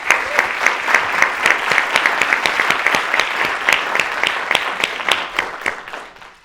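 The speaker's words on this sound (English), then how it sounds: "I'd like you all to join me in a round of applause for his support of this initiative" A large audience at a leadership lecture series gives steady, sustained applause, dense clapping that holds for several seconds at full strength and then begins to taper off toward the end.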